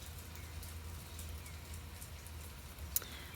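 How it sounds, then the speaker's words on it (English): Steady rain falling outdoors at a house with a bird feeder, a soft continuous hiss with a brief sharp tick near the end; no talking. "It's raining."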